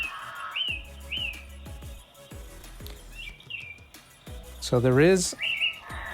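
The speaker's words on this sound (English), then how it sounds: "it's using the bird alarm sound to wake you up" Bird song alarm from a HeimVision sunrise alarm clock, repeated electronic chirps and tweets played from a small speaker, with someone speaking over it and a louder warbling call toward the end.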